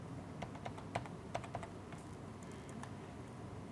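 Someone types on a faulty computer keyboard, a string of light clicking keystrokes in an irregular rhythm, close but soft over faint room hum, with a few sharper taps among them.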